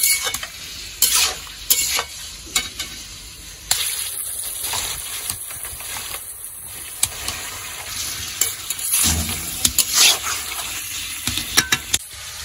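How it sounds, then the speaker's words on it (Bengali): Mutton curry stir-fried in a pan with a splash of water: lively sizzling and bubbling under repeated spatula scrapes and knocks, close and fairly loud throughout. "অল্প পরিমাণে একটু জল দিয়ে কষিয়ে নিচ্ছি।"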